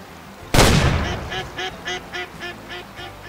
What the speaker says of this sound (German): Ich kann halt auch nicht so richtig orten, von wo die Ente ruft